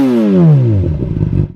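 A 2014 Honda CBR 600 motorcycle engine, a 600cc bike, revs up close by then drops back with a falling whine before settling into a rough, throbbing idle.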